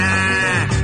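A single loud, close goat bleat sounds within an Indonesian song about a young goat, a wavering nasal cry lasting under a second.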